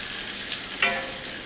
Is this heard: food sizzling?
yes